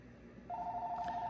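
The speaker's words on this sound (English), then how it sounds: "Oh, that's my phone going off, or my son's calling." A mobile phone rings in a room, a steady electronic ringtone that starts partway through and continues alone at moderate volume over faint background hiss.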